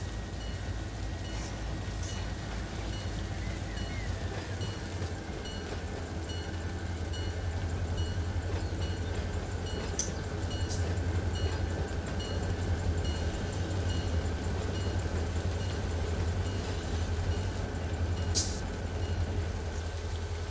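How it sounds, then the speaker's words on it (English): In the Run8 Train Simulator game, a Norfolk Southern local freight train with C42 locomotives pulls up on the Pittsburgh Line, giving a steady low rumble of engine and rolling wagons. Faint clicks and brief higher squeals sit over the drone. "I'll go ahead and bring my train up to this switch"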